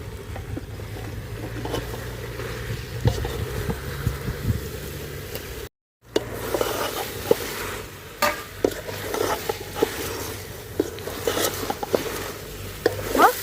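Chopped mushrooms stirred and sautéing in masala for biryani, a soft sizzle under scraping and stirring strokes, with a brief gap midway before the stirring resumes more sharply.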